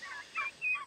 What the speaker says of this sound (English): These turkeys are about 7 weeks old right now, and they'll be ready to go the weekend before Thanksgiving.